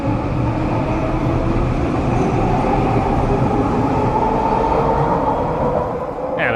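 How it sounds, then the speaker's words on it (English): A Vancouver SkyTrain departing Central Park station in Burnaby, a loud, steady rolling rumble and whine of the automated metro pulling away, heard close by without talk. "I guess we'll watch the SkyTrain leave"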